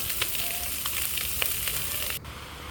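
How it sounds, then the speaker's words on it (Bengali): Small fish frying in oil for chorchori, a steady close sizzle and crackle with a few sharper pops, dropping abruptly quieter near the end. "চচ্চড়ি রান্না করার জন্য মাছ ভেজে নিতে আসি"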